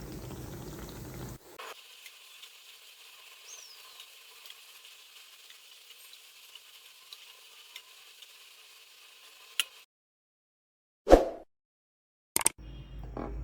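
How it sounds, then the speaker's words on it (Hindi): Potato snacks fry in hot oil over a medium-low flame, a faint steady sizzle and bubbling up close, broken by a few sharp clinks and quiet gaps. "अब यहाँ पे हम मीडियम टू लो फ्लेम पे इन्हें फ्राई करेंगे।"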